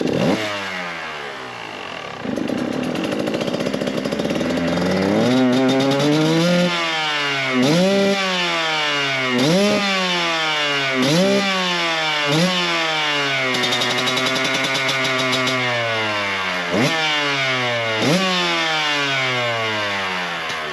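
Motorcycle engine fitted with an SC2 Smart Carb starts after a brief quiet, idles, then revs hard in a steady run of rising, falling throttle blips, loud and close with no talk.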